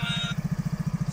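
A Cross Track 125 moped engine, long-wheelbase, idles close by with a steady rapid low thumping pulse, joined briefly at the start by a higher whine.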